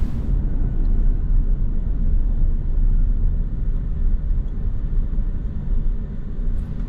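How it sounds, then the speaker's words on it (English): Ford F-250 Super Duty truck with a V8, cruising at higher speed, giving a steady low road-noise rumble heard from inside the cab, constant and fairly loud with no talking. "at higher speeds, the low rumble of the V8 starts to go away. However, some road noise does become present"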